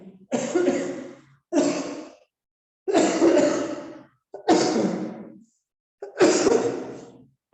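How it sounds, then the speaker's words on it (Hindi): A man coughs hard in five separate bursts, close and loud, each fit lasting about a second with short silent pauses between them. "पूरा खांसी हो गया।"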